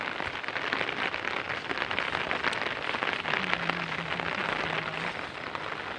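Steady rain falls outdoors in a grassy area in Cavite, a dense close patter of drops hitting surfaces throughout, with a faint low hum partway through.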